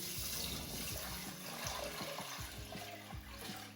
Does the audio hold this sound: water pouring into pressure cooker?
yes